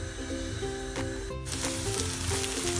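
Sliced onion rings and pepper stems sizzle steadily in hot oil, a continuous crackling hiss with occasional stirring scrapes, close up.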